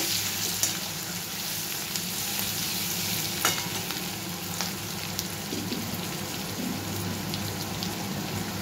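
Three large garlic cloves fry in hot oil with cumin seeds already tempered, a steady dense sizzle and crackle close to the pan, with faint scraping as it is stirred.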